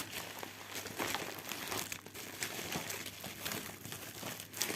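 Plastic packaging crinkles and rustles close up while a parcel of beads is unboxed, with irregular crackling bursts and short pauses throughout.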